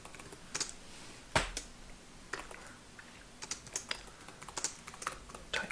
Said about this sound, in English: type up the author and title, and then the condition of the book